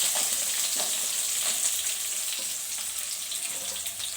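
Garlic, ginger, onion and green chilli frying in a kadai, a close hissing sizzle with soft stirring scrapes over it.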